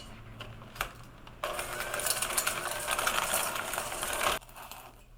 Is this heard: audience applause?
no